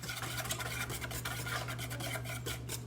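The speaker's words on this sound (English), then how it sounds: "we've got this all whisked up" Eggs and sugar being whisked in a bowl, with a steady, close scraping and swishing rhythm and a constant low hum beneath it.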